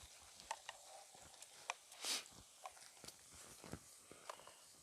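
Two cloves of garlic stir-fry in a pan with faint, scattered sizzles and a few soft clicks of stirring, quiet and close.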